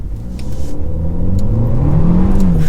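A Kia K4 GT-Line's 1.6 litre turbo petrol engine revs steadily upward, a close, loud mechanical drone whose pitch climbs and holds with no voices over it.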